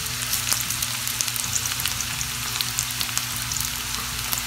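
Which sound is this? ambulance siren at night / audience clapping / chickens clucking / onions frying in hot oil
onions frying in hot oil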